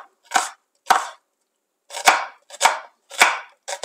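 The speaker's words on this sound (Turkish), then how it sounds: "jülyen olarak doğruyorum" Knife cutting an onion into julienne strips on a board, six crisp separate chops at close range with short gaps between them and silence otherwise.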